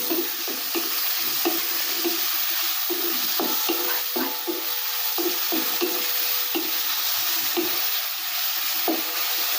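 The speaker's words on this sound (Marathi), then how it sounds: "टोमॅटो भाजत आला आहे" Tomatoes sizzle and fry in oil in a pan over a wood-fired chulha stove, a steady close crackle with repeated stirring scrapes throughout and no voices.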